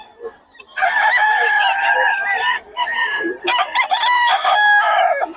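A rooster crows loudly and close by at a market in Bocaue, two long harmonic calls back to back with a short gap, with faint background noise.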